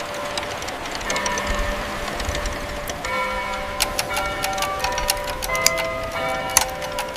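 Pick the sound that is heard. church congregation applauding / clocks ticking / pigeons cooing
clocks ticking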